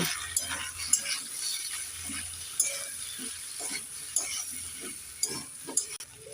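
Turmeric and chilli powder stirred in a pan, a low sizzle with intermittent sharp spoon taps and scrapes against the metal, close and fairly loud.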